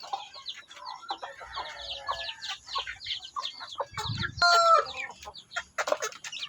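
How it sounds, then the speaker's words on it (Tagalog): A frightened hen clucks in quick, agitated bursts at pigeons landing nearby, with other fowl calling and a short crowing outburst in the middle, fairly close and moderately loud. "iba yung tunog siya kasi natatakot siya sa mga kalapating dumadapo dito"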